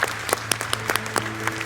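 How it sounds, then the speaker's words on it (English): An audience gives a round of applause for the participants and three finalists at an award ceremony, with scattered separate claps over a low steady hum. "could we have a big round of applause for all the participants and all 3 finalists"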